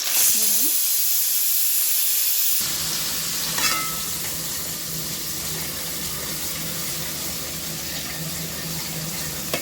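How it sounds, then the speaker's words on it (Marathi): Onion and coconut masala hits a hot pan and sizzles loudly and steadily, a dense continuous frying hiss with a brief scrape of stirring, no talk over it. "आणि इकडे हा कांदा खोबऱ्याचा मसाला आहे तो पण टाकते"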